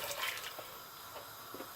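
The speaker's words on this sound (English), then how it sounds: "I'm just going to cover them with water" Water pours over soaked chana dal in a large pan, a soft continuous splashing and trickling with a few faint drips, fairly quiet and without talk.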